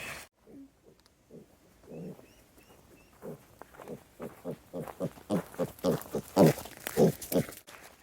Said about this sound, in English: Here's our little pig.